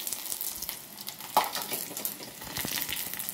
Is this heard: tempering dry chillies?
yes